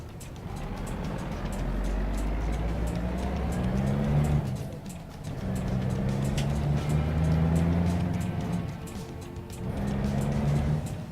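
Volvo VNL truck in American Truck Simulator, a steady low diesel engine drone rising and easing through gear changes, continuous and fairly loud with no talk.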